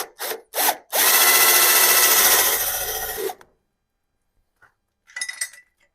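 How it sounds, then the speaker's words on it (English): A couple of short bursts, then a sustained grinding of a power drill drilling out spot welds in a Mazda's car body metal for about two seconds, followed by quiet and faint clinks. "I have already been hard at work drilling a lot of spot welds out"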